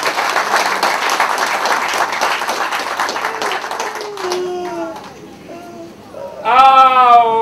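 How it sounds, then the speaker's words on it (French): An audience applauds steadily for about four seconds, the dense clapping fading out before a few vocal sounds and a voice at the end. "Applaudissez un peu là."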